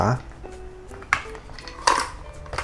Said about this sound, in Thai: เปิดฝา